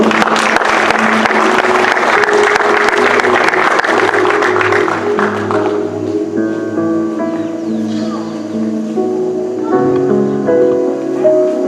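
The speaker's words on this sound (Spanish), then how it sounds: "Vamos, dale palmas al Señor." Congregation at a church service clapping hands for several seconds, dense and loud, then fading into music with sustained tones and organ-like chords.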